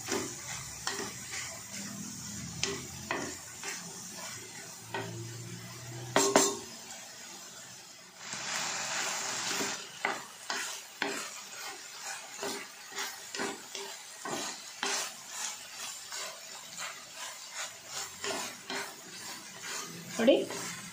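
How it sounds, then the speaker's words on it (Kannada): Eggplant and tomato frying in oil in a pan, with a steady soft sizzle and scattered clinks and scrapes of a utensil stirring against the pan. Faint talk sits low in the background. "ಇಷ್ಟು ಚೆನ್ನಾಗಿ ಫ್ರೈ ಆಗಬೇಕು ಈಗ ಎಣ್ಣೆಲಿ."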